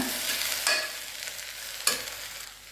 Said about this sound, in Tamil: வதக்கிக்கோங்க.